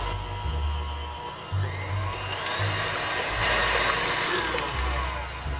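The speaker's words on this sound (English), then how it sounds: "this baby here is a professional series mixer" A professional series stand mixer beats brownie batter with a steady motor whine and low churning hum, its pitch wavering slightly as the load shifts, loud and close with no talk.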